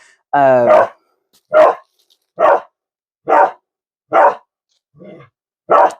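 A dog barks in short, loud bursts during play with a carrot toy, about seven barks spaced roughly evenly, close to the mic with no talk over them.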